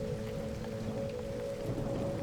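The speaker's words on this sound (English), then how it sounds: "The clean, fresh rain that pelts upon the roof of the motel in a steady pattern makes the perfect soundtrack for sleeping." Steady rain pelts a motel roof with a constant soft patter and a low hum beneath, even and unbroken from start to finish.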